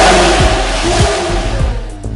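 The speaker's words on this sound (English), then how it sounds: "you decide to test out the engine and see how fast this baby can go" A brand-new car's engine revs and accelerates hard, a loud, steady roar with rising pitch sweeps, close and alone with no voices over it.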